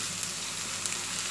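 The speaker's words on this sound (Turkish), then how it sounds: "Soğanlarımı 2-3 dakika soteledim." Chopped onion sautés in a few spoonfuls of oil in a pan, giving a steady close hiss and crackle, brief and unbroken with no voices.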